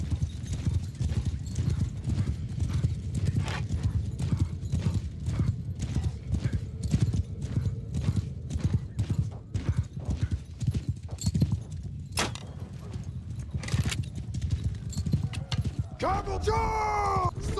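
Cavalry horses gallop in the Warsails medieval battle game, a dense, continuous rapid clip-clop of hooves close by with occasional whinnies and clashing battle noise throughout.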